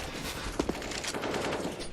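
AK-47 gunfire in a CS:GO match, a few sharp shots followed by a dense, rapid stream of rifle fire mixed with other weapons, loud and close, with no voices over it.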